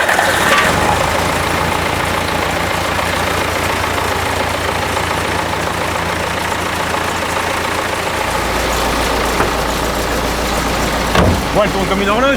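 A Claas combine harvester's engine runs at a deep, steady idle, its low rumble shifting slightly partway through, while people talk in French nearby over the drone.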